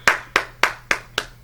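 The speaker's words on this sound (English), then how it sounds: "Round of applause for Big Swole." Six evenly spaced sharp hand claps, close and fairly loud, in a steady rhythm with no crowd audible, heard alone.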